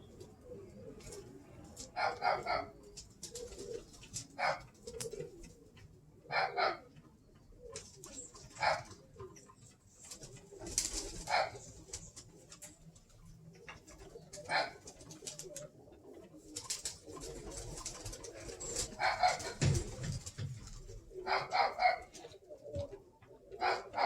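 A male pigeon coos repeatedly in a loft, soft rhythmic bursts recurring every few seconds over a quiet background.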